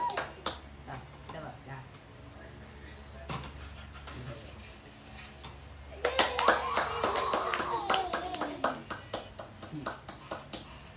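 Several people clapping hands together at a family Christmas gathering at home, scattered claps at first, then a rapid, louder run of sharp claps in the second half, with children and adults talking and vocalizing over it.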